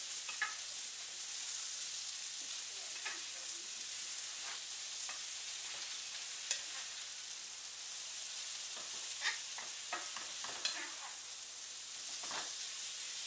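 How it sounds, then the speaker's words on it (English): Vegetables and tofu chunks frying in a pan, a constant soft sizzle with scattered scraping clicks of stirring, close and fairly quiet. "And as it's going, I'm constantly stirring."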